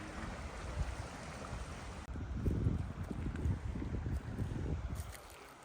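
Lake Creek flows near a campsite at Camp Sherman, a steady rushing wash of water mixed with wind buffeting the microphone, fairly loud and continuous with no voices.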